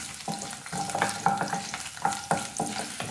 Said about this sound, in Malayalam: ഇനി വെളുത്തുള്ളിയും ഇഞ്ചിയും ഒന്ന് വഴറ്റിയെടുക്കാം.